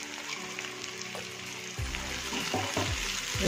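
Green chillies and crushed garlic fry in a pan with a steady oily sizzle, and stirring scrapes and clatters join in halfway through, close and moderately loud.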